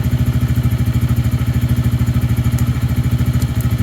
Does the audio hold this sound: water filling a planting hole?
no